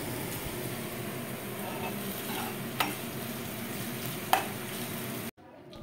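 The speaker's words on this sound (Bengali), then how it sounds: "আলু ঝুড়ি ভাজাটা প্রায় হয়ে এসেছে, আর এদিকে সর্ষে দিয়ে মাছ রান্না হচ্ছে" Shredded potatoes fry in hot oil with a steady, close sizzle while being stirred, with two sharp clicks from the utensil against the pan before the sound cuts off abruptly.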